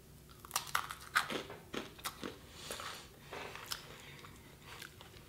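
Close-up crunchy bites and chewing of a Graze box snack dipped in peanut butter, a quick run of crisp crunches followed by softer, steady mastication with no talking.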